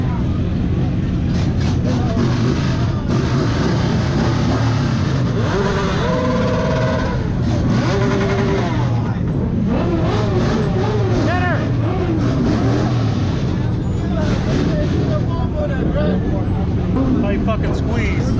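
A bus rumbles past on a street with motorcycles nearby, its loud engine noise continuous and close under heavy shouting and talk.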